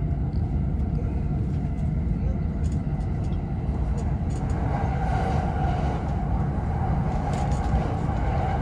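A passenger train runs through Kawasaki, Japan, heard from inside as a steady, dense rumble and rolling roar that fills the whole stretch, with faint voices in the carriage.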